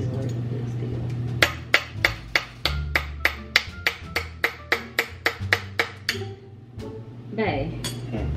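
A metal spoon raps and pries at a super-glued jar lid, giving a rapid run of about twenty sharp metallic clinks in steady rhythm, then a few scattered taps, with a voice murmuring underneath at times.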